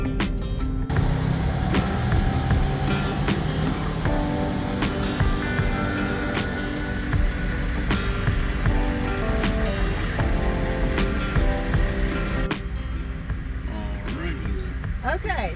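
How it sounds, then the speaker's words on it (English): Engines of motorcycles and 4x4s rumble steadily nearby as they load onto a ferry, with clanks and mechanical noise throughout and people talking intermittently under the din. "they're loading the motorcycles and the 4x4s who are going on an adventure"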